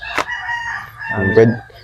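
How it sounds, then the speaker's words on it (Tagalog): Chickens cluck and a rooster crows nearby in short bursts, loud and close, over a faint background murmur. "Ito na po Sir Purge yung mga manok."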